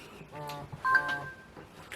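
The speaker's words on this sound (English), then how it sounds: "That was a notification came in on my phone." A phone notification plays as a short run of bright electronic beeps in two quick bursts, faint and close, against a quiet background.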